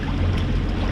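Sailboat under engine power on a calm sea off the French Riviera near Cannes, with a steady low motor rumble mixed with water rushing along the hull, loud and constant.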